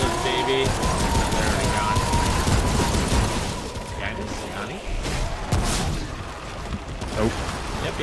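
Rapid gunfire with fire bullets in the video game Remnant: From the Ashes, dense and continuous bursts filling the clip under a noisy combat mix, with players talking over it.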